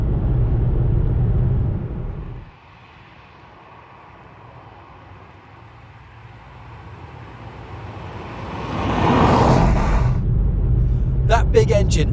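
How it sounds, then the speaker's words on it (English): A Ford Mondeo ST220 with its 3.0-litre V6 hums along at speed with a low, steady cabin rumble that drops briefly, then swells as the engine pulls harder, with a voice over it near the end. "That big engine up front really does pull this car along very nicely indeed."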